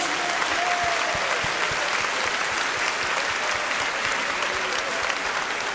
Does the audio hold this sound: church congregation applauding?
yes